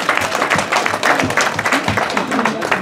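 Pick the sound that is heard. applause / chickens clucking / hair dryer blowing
applause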